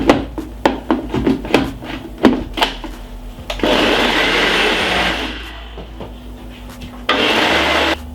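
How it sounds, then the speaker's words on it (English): Blender whirring through cucumber, ginger and lemon juice in two loud bursts of a few seconds each, after a run of sharp knocks and clatter from preparation. "Then we're going to be blending this for about 3 to 4 seconds."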